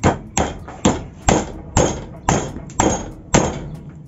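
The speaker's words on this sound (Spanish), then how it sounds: "Para la primera prueba, vamos a hacer la prueba de clavado." Hammer driving a nail while a Truper European-style bench vise is tested, eight sharp metallic strikes at an even, steady pace, loud and close with ringing decay after each blow.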